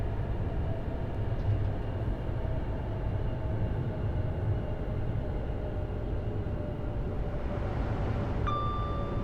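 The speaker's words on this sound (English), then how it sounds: "There goes a train now." Train passing in Train Sim World 5 on the East Coast Main Line, heard from a modded locomotive cab as a steady rolling rumble with a brief high tone near the end, no talking.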